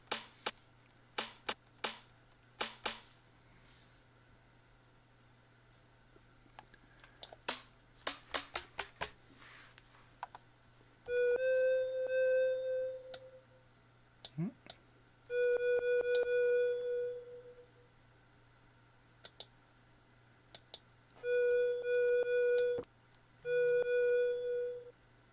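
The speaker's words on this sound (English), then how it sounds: "Keeps making like a clicking sound." A music-making device gives sparse, sharp clicks at irregular intervals, then short sustained beeping tones in several bursts, all over a faint steady low hum in a quiet room.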